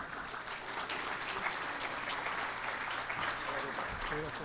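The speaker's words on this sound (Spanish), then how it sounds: "recibamos con fuerte aplauso" Audience applause welcoming a speaker at a formal event, steady, moderately distant clapping that continues evenly without talk.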